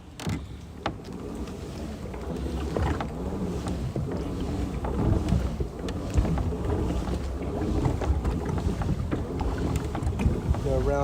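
A big old fishing boat turning on the water, with a steady engine rumble, water wash and wind buffeting the microphone throughout, and a voice faintly present in the background.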